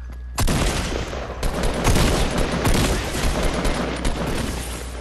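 Rapid bursts of gunfire crackle in a Fortnite match, loud and continuous over a dense noisy background.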